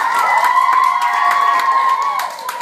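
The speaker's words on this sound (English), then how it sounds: "Give her another big round of applause there" A room full of school children at Green Valley School in Danville, California, cheers and shouts loudly with scattered clapping, a sustained excited roar close by.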